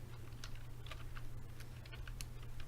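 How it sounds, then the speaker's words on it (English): Quiet, close keyboard typing on a computer, with a quick irregular run of light key clicks over a low steady hum. "let me type it up"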